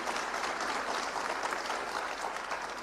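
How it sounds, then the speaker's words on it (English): An audience at an inspirational talk by army officers claps continuously, a steady, fairly distant patter of many hands holding an even level throughout. "We can clap louder than that,"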